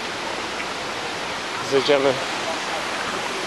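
A waterfall in the Karkonosze mountains gives off a steady, even rush of falling water throughout, while a person speaks briefly over it partway through.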